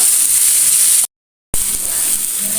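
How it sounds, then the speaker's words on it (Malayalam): Chopped onion and carrot sautéing in a pan give a steady, loud broadband sizzle that cuts out abruptly to silence for about half a second, then resumes at the same level. "ഇതൊന്നൊന്ന് വഴറ്റിയെടുക്കാം"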